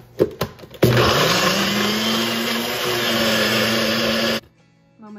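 Vegan whipped cream with vanilla and brown sugar being mixed in a blender: a few short knocks, then a loud, steady motor whir that holds for about three and a half seconds before cutting off abruptly.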